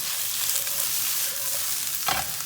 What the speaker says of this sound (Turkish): Yüksek ateşte bunu kavurma işlemine başladık ısısını kesinlikle düşürmeyeceğiz.